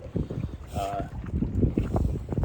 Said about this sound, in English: Pretty breezy, so I don't even have to paddle.